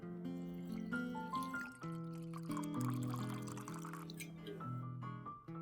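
Water trickles and pours into a bowl of ice for an ice bath, a quiet, close stream with bright ringing tones as the ice shifts and clinks.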